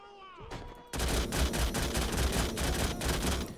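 Machine gun fire in the Call to Arms video game, an Afghan village defense against a Russian force: after a brief quiet lead-in, a loud sustained burst of rapid automatic shots rattles on continuously with dense overlapping gunfire.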